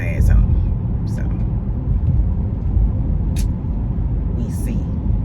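Interior road noise from a car being driven home at night, a steady low rumble with a few brief higher noises over it and no talking.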